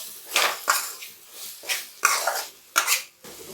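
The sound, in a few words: stirring tomato thokku in a pan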